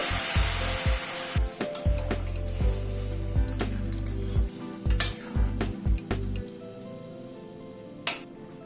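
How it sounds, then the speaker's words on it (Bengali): Hot water is poured into a hot frying pan, setting off a strong sizzle that fades as a spoon scrapes and stirs with repeated low knocks, ending in a sharp clink. "এবার গরম জল অ্যাড করে দিচ্ছি।"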